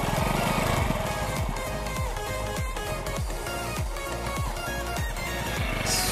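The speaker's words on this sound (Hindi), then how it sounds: "सुनीता ने बाइक स्टार्ट कर ली है" A motorbike engine just started in a rural farm setting chugs at a fast, even putter, each firing pulse distinct, with a steady hum underneath and no speech.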